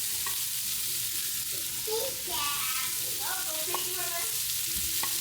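Rice hits a hot wok for Japanese-style steak fried rice and sizzles steadily as it is stir-fried. The dense frying hiss runs continuously, with faint scraping and stirring sounds on top.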